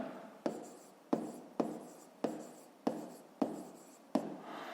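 Pen or chalk writing digits while solving a fifth-grade rounding exercise, seven short scratchy strokes in a steady rhythm, close and quiet with no talking.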